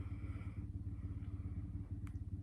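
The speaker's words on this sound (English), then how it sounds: "Sorry if the motorbike's gonna annoy you." Low rumbling motorbike engine idling or passing outside, a steady throbbing drone, muffled through walls, with a brief click near the end.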